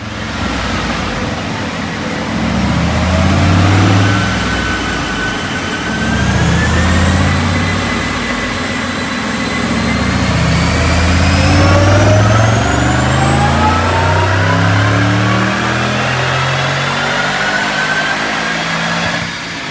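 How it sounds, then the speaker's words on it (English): Supercharged 2008 Mustang Bullitt 3V V8 with an Edelbrock supercharger, stock on 93 octane, roars steadily and loudly through a dyno pull, engine note and supercharger whine rising together as revs climb, with no talking over it. "Check out this dyno pull."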